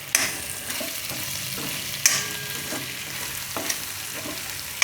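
A spoon stirs carrot sambharo with gram flour and fresh coriander in a pan, giving a soft continuous sizzle broken by a few sharp scrapes and clinks against the metal, with no talking.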